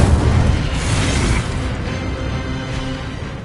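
A fire spell blast in a wizarding video game, the Incendio charm, erupts as a loud, dense boom with a roaring rush that fades into a lingering crackling rumble.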